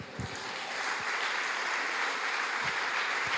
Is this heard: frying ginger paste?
no